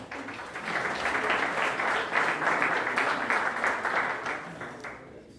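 Sustained applause from an audience at a national Blue Flag and Green Coast awards ceremony, a dense even wash of clapping that holds steady for several seconds before tapering off at the end.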